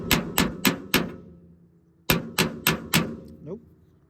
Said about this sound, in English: Let's spine whack it for a minute and see if it'll